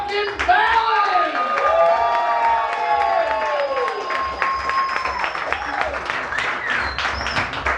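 A bar crowd at a stand-up comedy show in a liquor lounge breaks into sustained applause, steady dense clapping with cheers and whoops over it, lasting several seconds.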